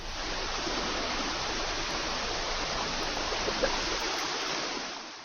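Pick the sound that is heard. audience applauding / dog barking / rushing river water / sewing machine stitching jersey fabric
rushing river water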